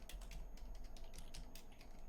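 Rapid computer keyboard typing during an online tabletop roleplaying game session, a short run of close, evenly spaced key clicks over a low steady hum.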